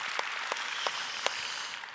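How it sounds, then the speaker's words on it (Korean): Church congregation at a Korean church service applauding in thanks to God, a soft, distant wash of clapping with a few sharper individual claps standing out over roughly two seconds. "하나님께 박수로 감사합니다"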